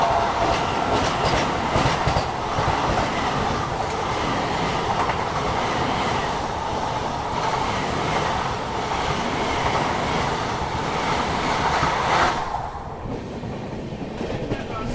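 A Vande Bharat express crossing on the line, with a steady, loud rumble of running train wheels and rail clatter that continues for most of the stretch, then drops off sharply near the end.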